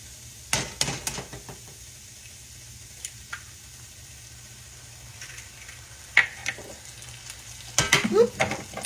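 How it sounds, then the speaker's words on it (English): Eggs are cracked onto homemade hashbrowns frying in a pan: sharp taps and clicks over a soft, low sizzle, with a busier clatter of utensils toward the end. "Now I'm going to crack my eggs in on top of this"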